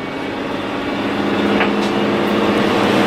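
A 2005 Country Coach Inspire Class A diesel motorhome with an Allison six-speed transmission drives on, its loud, steady engine drone and road rumble continuous from the cab.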